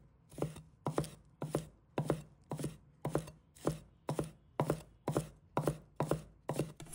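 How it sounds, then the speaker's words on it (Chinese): A knife chops scallion whites into small pieces on a board, about a dozen crisp, evenly spaced thuds in a steady rhythm, close and clear. "将它们切小粒"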